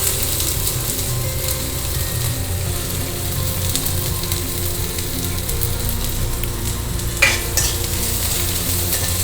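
Onion, green chilli, ginger and curry leaves frying in hot oil for tomato rice: a loud, steady, dense crackling sizzle throughout, with a brief sharper scrape of stirring near the end and no talking.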